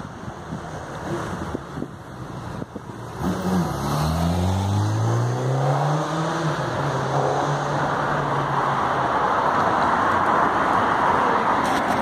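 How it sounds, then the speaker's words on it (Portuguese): Two Princesa dos Campos coaches, Marcopolo G7 1200 bodies on Mercedes O500 RSD tandem-axle chassis, pass on a street in Londrina. Heavy wind buffeting comes first, then rising and falling engine tones as the buses roll loudly past. "Dois ônibus aí belíssimos, ó, da Princesa dos Campos."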